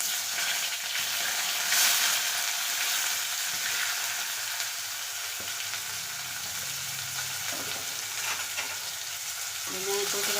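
Sliced onions sauté in hot oil with whole spices in a pressure cooker for dum biryani, giving a steady, close, dense sizzle with occasional stirring scrapes throughout.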